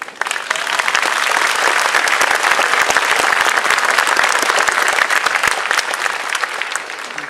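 A graduation audience breaks into loud, dense clapping that holds steady for several seconds and then tapers slightly near the end.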